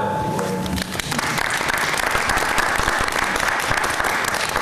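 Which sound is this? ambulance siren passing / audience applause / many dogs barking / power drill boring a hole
audience applause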